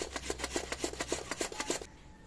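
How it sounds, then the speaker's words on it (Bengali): Carrot rubbed against the medium holes of a hand grater in steady rasping strokes, about ten close scrapes in quick rhythm that stop near the end, leaving quiet room tone. "এখন আমি গাজরটা একইভাবে গ্রেট করে নেব, ওই মিডিয়াম জালিটা দিয়েই গ্রেট করব"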